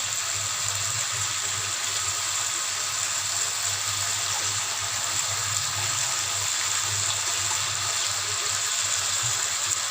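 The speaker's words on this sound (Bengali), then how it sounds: "পানি দিয়ে দিচ্ছি।" Water pours into a fish head and radish curry in a pan. It makes a steady, continuous gushing stream close by that lasts the whole time, without talk.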